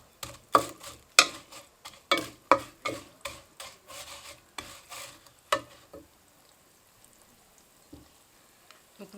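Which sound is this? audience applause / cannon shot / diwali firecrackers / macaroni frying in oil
macaroni frying in oil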